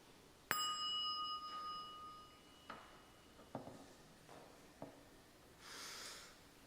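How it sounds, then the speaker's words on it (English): A single bell is struck once during a quiet worship-service breathing meditation. Its clear tone rings out and slowly fades, followed by a few soft knocks in a hushed room. "So I'm going to ring this bell"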